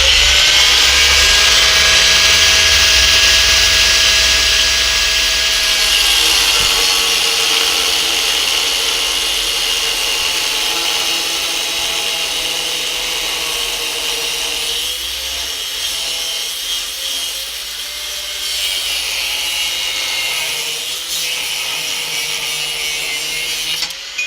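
Power tool cutting through a clamped metal part to make a tensioner release tool for a Ford Mondeo: loud, close, continuous grinding roar with a shifting tone that stays strong for the full length and eases slightly near the end.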